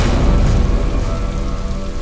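Heavy rain pours down in a dense, continuous hiss with a deep rumbling low end, loud and close, with no voices.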